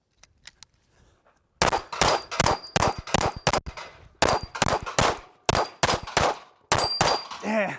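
Rapid pistol shots from an Atlas Apollo, each followed by a ringing metallic clang as rounds strike steel targets, fired in quick strings with short pauses between volleys, loud and close.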